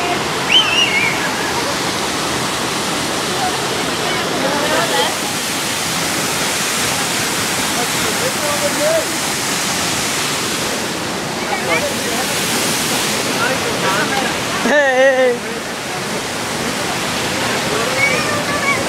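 A river rushes continuously, a dense broadband roar of flowing water filling the whole stretch, loud and close, with faint voices and small bursts of sound now and then over the steady wash.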